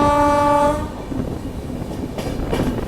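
The Ratnachal Express, running from Visakhapatnam toward Vijayawada, sounds a loud, sustained horn, then passes close by with a heavy, continuous rumble and clatter of wagons.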